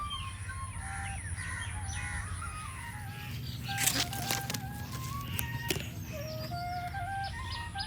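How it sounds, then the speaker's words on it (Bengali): Birds chirp and call across a mango orchard, scattered tweets and a few louder caws over a low steady outdoor hum; no talking. "পুরো বাগান জুড়েই পাখির কিচিরমিচির শব্দ শোনা যায়।"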